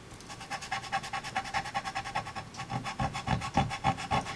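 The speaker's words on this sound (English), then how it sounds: "The mono sand eraser is a great little tool." A Tombow Mono sand eraser rubs back and forth over embossing powder on a paper card, making a quick, steady rasping scrub of rhythmic close strokes that grow firmer toward the end.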